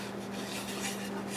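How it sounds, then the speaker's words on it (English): An elm wood turning is sanded on the lathe, producing a quiet, continuous rubbing hiss with a faint steady hum underneath and no pauses. "a little bit of sanding, get some finish on there"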